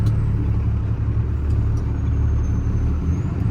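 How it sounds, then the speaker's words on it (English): A 2014 Freightliner M2 crane truck with a Cummins ISC engine and factory exhaust brake holds a loud, steady, deep rumbling drone from start to finish, with no talking. "Factory exhaust brake kicking in."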